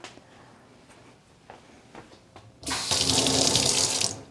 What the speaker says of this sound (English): I'm going to rinse it out and do it again.